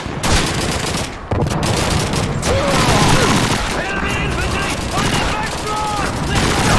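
Call of Duty 2 gunfire crackles in dense, continuous bursts, with sharp shots packed together under a busy battlefield din and occasional tonal streaks, filling the whole stretch at steady loudness.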